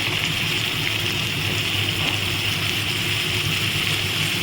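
Water pours steadily into a spiced ridge gourd and potato curry seasoned with ginger, cumin, coriander, chilli and turmeric, making a continuous rushing splash that is close and even throughout.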